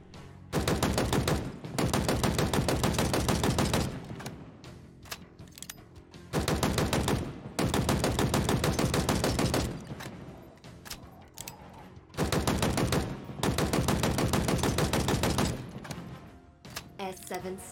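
Full-auto fire from a gun in Halo Infinite comes in loud, sustained rapid bursts of two to three seconds each, separated by quieter gaps, with someone talking between the bursts.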